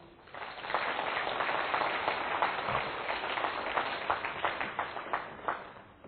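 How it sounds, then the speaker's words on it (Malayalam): A congregation at a church service claps hands together in sustained, dense applause that swells and holds steady for several seconds, heard from a slight distance. "ഒന്ന് കൈയുയർത്തി കൈയടിച്ച്"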